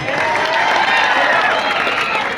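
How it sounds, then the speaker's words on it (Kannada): Audience applause and crowd cheering for the Alvas women's kabaddi team at a Tamba Dasara semifinal against Haryana, a steady continuous roar of clapping with no gaps. "ಪ್ರೇಕ್ಷಕರ ಆಳ್ವಾಸ್ ತಂಡ ಗೆಲ್ತದನ್ನೋರು ಒಂದ್ಸಲ ಚಪ್ಪಾಳೆ ಕೊಡಿ ನೋಡೋಣ."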